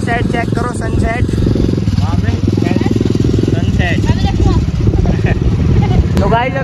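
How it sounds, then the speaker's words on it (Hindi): A Hero Splendor motorcycle engine hums steadily at a low, even pitch while riding, with a person talking over the constant drone. "अभी हमने बाइक अंशित भाई को दे दी है और हम जा रहे हैं इस पे अपनी स्प्लेंडर पे"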